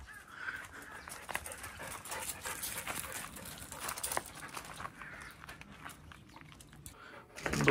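Several dogs pant quickly and audibly after playing outdoors with a disc, a close, breathy rhythm with small whimpers and mouth sounds, ending in a louder rustle.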